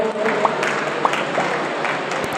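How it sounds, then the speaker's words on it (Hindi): Audience applause at a wholesale and retail grocery committee's annual Holi gathering, a dense, even patter of many hands clapping with a few sharper claps standing out, steady throughout. "ताली बजाएं सभी लोग।"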